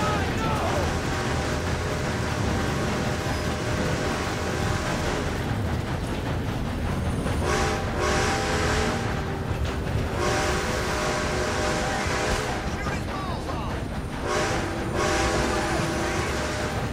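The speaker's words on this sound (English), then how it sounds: "We stole a train." Stolen train rolling along the rails in the Red Dead Redemption 2 game, a steady dense rumble with rhythmic rail clatter running throughout, loud and continuous, with brief bursts of other noise layered on top.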